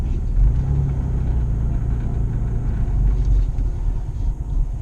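A truck rolls on General Grabber ATX 33x12.50R15 tires, giving a steady low rumble and road drone inside the cab with no talk.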